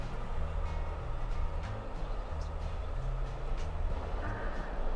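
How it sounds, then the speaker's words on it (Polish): Heavy rumbling of two trains rolling past, a steady low clatter of wheels on rails that continues throughout with no pauses. "dwa pociągi."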